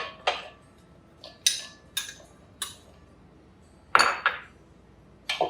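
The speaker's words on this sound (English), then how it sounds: "into the brown sugar, 1 cup of pecans. I'm going to put that in all the way in." A cup of pecans goes into brown sugar in a pan for kugel, heard as a series of sharp, separate clinks and knocks of utensil on metal, close by, about eight hits spaced irregularly.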